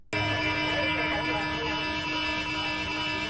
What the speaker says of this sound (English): apparently all the alarms are going off because I guess Apple technology, if you steal them from the store, they won't work